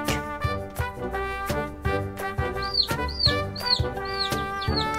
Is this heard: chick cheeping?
yes